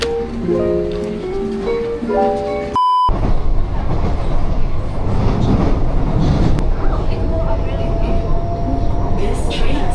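A train at Sentosa, Singapore: a short electronic chime, then a steady rolling rumble and rattle of the moving carriages, with a public-address voice over the noise.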